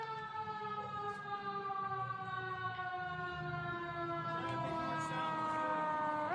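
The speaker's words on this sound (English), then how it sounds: "That's a fire truck." A fire truck siren in a video game wails with a steady, rising tone fairly close, a sustained electronic emergency-vehicle wail without speech.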